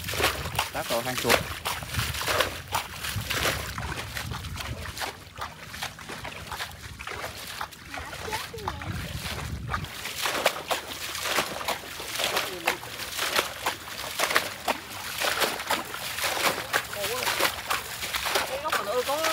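Water splashing and sloshing as people bail out a flooded spot beside a river to catch fish, chasing them toward a rat hole; irregular splashes run throughout beneath steady talking.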